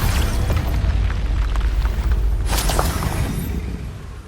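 Confringo fire spell blasts from Hogwarts Legacy gameplay, a loud rumbling explosion with a sharp crackling burst partway through, over dense continuous game combat noise, with no talking.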